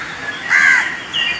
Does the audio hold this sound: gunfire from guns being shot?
no